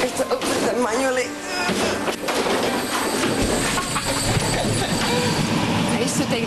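An old Czech passenger train runs near Prague, with rumbling wheels, a steady rolling hum and occasional clanks and squeals throughout, while a voice talks over it.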